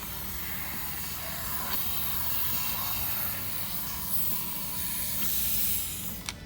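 A steady aerosol disinfectant spray hisses continuously for several seconds into a car air vent through a tube, close and fairly loud, with slight surges and a brief click near the end.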